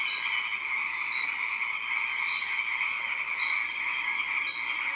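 Dense, steady chorus of frogs croaking continuously, many voices overlapping at an even loudness throughout.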